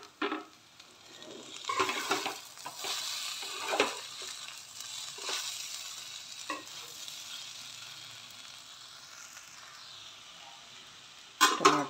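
Tomatoes go into poha frying in a pan: sizzling and stirring scrapes in bursts that settle into a steady quieter fry, ending with a clatter of utensils, close up.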